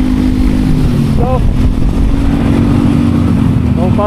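A Honda Click V3 scooter engine hums steadily while riding on a long solo road trip, close and constant, with a voice talking faintly over it.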